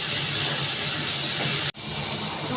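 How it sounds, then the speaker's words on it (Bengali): Spice paste with tomatoes, salt, green chilli paste and ginger paste frying in a pan for a Bengali fish curry, giving a steady loud sizzling hiss that breaks off briefly for a moment, then resumes. "ভালো করে কষিয়ে নেব।"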